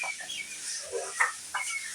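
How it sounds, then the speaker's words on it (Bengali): Fayoumi hens on a farm give a few short, bright clucks and calls in separate bursts, close by and fairly quiet, with no talking. "এগুলো হচ্ছে ফাউমি মুরগি"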